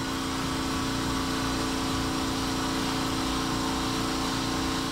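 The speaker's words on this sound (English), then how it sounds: "Compare that to Estwing's 5-gallon compressor, which runs at just 68 dBA." An Estwing 5-gallon air compressor runs with a steady, unbroken motor hum and a constant electric whine. The drone is even and near, with no pauses or changes for the whole stretch.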